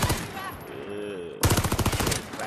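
Rapid automatic gunfire from a fast-firing gun in the VR battle royale game Warzone, a dense loud burst of shots starting partway through after quieter mixed game sounds and a voice.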